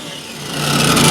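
Burrs being rubbed and filed off a metal window part by hand, a close, continuous scraping rasp that grows a little louder and denser over one second.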